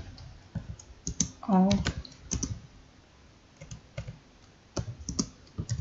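Quick bursts of keystrokes on a computer keyboard, clicking in short uneven runs at close range, with a brief spoken word partway through.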